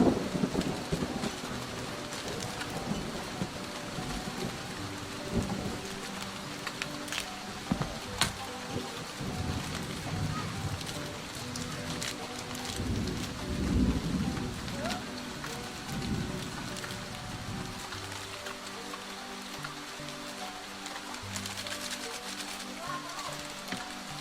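Steady rain with rolling thunder during a wet-season outing gathering wild mushrooms, a continuous wash of rainfall with low rumbles swelling around the middle, with faint voices in the background.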